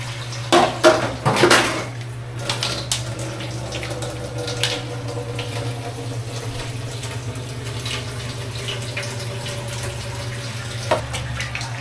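Thin stream of water trickling from a tap into a container to collect it before rinsing, with dish and pot clatter early on over a steady low hum, no talking.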